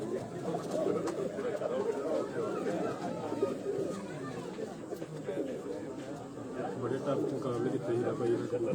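A Reddy breed pigeon coos at close range, with soft, repeated throaty calls mixed into a murmur of nearby voices and other birds on a rooftop.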